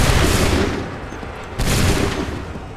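A loud musket volley during the Battle of Bunker Hill in Assassin's Creed 3 crackles and booms, fading briefly before a second ragged volley bursts out close by.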